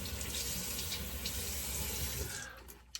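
A bathroom tap runs steadily into a sink while someone wets their face during a wet shave, the close, continuous splashing flow stopping near the end with a small knock.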